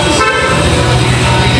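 A loud, sustained motorcycle horn blast sounds close by for nearly two seconds during a vehicle inspection, steady and unbroken over a low engine idle.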